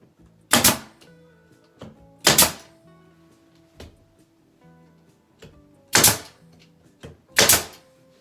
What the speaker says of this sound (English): make sure that you're firing the gun sideways